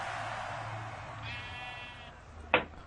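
A Minecraft sheep gives a short, faint bleat in a game, followed by a brief sharp click, with a low steady background hum and no talk.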